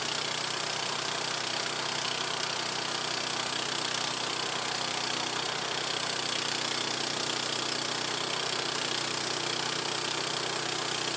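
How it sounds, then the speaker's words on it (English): Engine of a Harbor Freight sawmill running steadily, a continuous loud mechanical drone with an even broadband roar and no pauses, no talk heard. "I sure do love cutting with this Harbor Freight sawmill"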